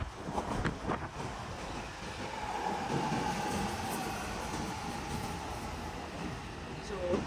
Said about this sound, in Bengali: আমার সাবওয়ে ট্রেন আসছে